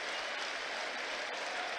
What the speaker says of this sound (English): warm applause from the Albion fans as Danny Welbeck makes his way off the pitch down on the right-hand side.